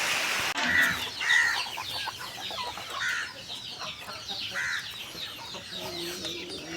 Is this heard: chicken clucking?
yes